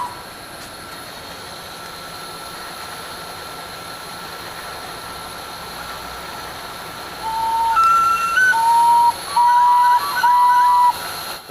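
A toy plastic pipe organ in an art installation plays a mourning dove call as a few soft, sustained breathy tones, some sliding up slightly, heard over a steady background hum.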